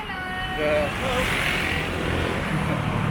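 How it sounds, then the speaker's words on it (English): Steady, loud roar of passing vehicles and engines, including motorbikes, on a busy street in Patong, Thailand, continuous throughout with a rumbling low end. "sorry, it's loud on the street."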